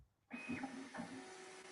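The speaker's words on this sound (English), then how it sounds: "Oh, I finally hear your printer now." A 3D printer lays down its first layer, starting abruptly with a steady whirring motor hum and shifting stepper tones, quiet but clear, with no talk.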